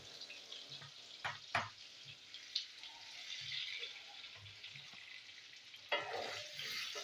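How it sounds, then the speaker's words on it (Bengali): Two cut potatoes fry in oil left over from frying eggs, with a little salt, making a quiet, steady sizzle broken by a few sharp scrapes and clinks from stirring, close by. "এই তেলে আমি আলু আলু ভাজবো।"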